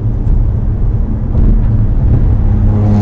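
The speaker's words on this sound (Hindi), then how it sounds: "एक भाई अपने फोक्सवैगन पोलो से रैश ड्राइविंग कर रहे थे" A Volkswagen Polo driven recklessly gives a loud, continuous engine and road roar that surges slightly as it speeds along.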